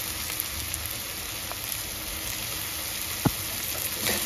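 Butter sizzling in a pan with tawa keema, a steady close frying hiss with faint crackles and one sharp tick.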